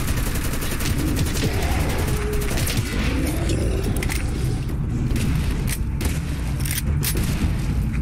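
Frag grenade explosion in heavily modded Fallout 4, heard as a loud, dense blast with crackling gunfire-like debris filling the whole clip.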